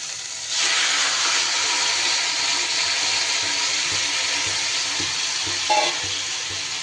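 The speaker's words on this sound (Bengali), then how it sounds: "এইভাবে নাড়াচাড়া করে নিয়ে এইবার আমি সবজিটা দিয়ে দিচ্ছি।" Vegetables tipped into a hot pan already holding chillies and fried bori set off a loud, steady steaming sizzle that fills the whole stretch, with a brief louder crackle near the end.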